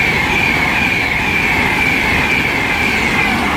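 A Class 390 train passes at South Kenton on the West Coast Main Line, a steady loud rushing roar with a high whine held throughout, close by and with no talk.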